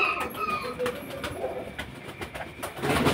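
Racer pigeons, male and female, coo repeatedly at a pigeon seller's stall in Beldanga, low rolling coos with rustling and background noise, moderately close.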